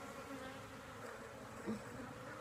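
Honeybees on a hive frame holding capped brood, their buzzing a steady, dense drone that stays fairly quiet and continuous throughout, with a small swell near the end and no talking.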